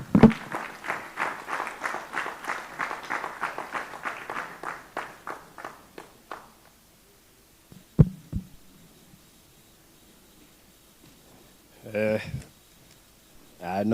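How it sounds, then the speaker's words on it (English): An audience at a cybersecurity tech hackathon claps for a speaker, a steady round of applause lasting several seconds that fades out, followed by quiet with a few isolated knocks and brief speech. "Let's clap again for him."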